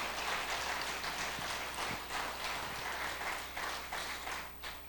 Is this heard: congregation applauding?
yes